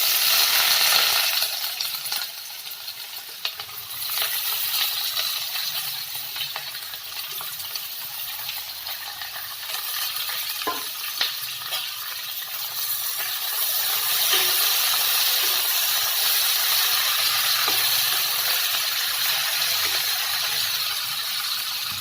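Onions sizzle and hiss in hot oil for a potato curry, a loud, steady frying crackle that lasts the whole time with no talking.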